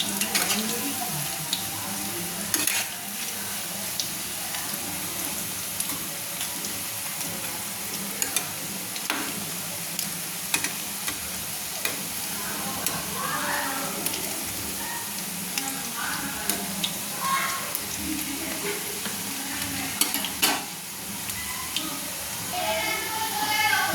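Onion pakoras fry in hot oil with a continuous close sizzle and hiss, punctuated now and then by soft clicks and scrapes as the fritters are turned over.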